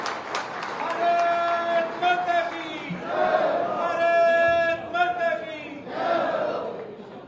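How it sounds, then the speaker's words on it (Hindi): A rally crowd in Pundri, Haryana greets Uttarakhand's chief minister with loud applause mixed with chanting and shouted voices, swelling in waves over several seconds. "मैं जोरदार ताली बजाकर उनका स्वागत करें"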